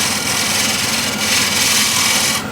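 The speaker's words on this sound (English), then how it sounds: "And I can smooth that out with shear scraping." Bowl gouge shear scraping a spinning wooden bowl on a lathe, a steady, close, hissing scrape with slight swells in intensity, cutting off near the end, and no talk.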